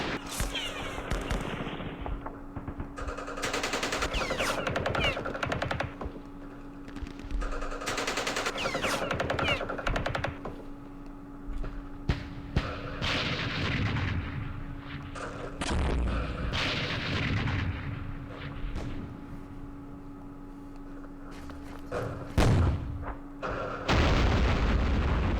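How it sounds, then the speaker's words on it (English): Gunfire and artillery in the Campaign Series Vietnam war game at Dien Bien Phu, dense bursts of booming shots and rattling fire repeating throughout, loud and continuous with brief lulls. "Those guns are brutal"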